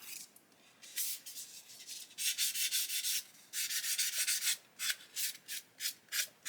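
A sanding sponge scrubbing a plastic Airfix 1/72 Hawker Hurricane Mk.1 model wing up close, rapid bursts of fine rasping strokes in rhythmic runs, alone without talk.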